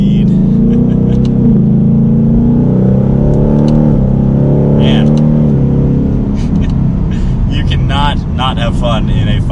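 A 2021 Ford Mustang GT Premium with a 5.0 V8 picks up speed from the driver's seat, its deep engine note rising and then easing off, with someone talking over it.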